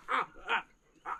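A dog barks during rough play with a man in a Sri Lankan forest setting: three short, close barks with brief pauses between them, and no talk.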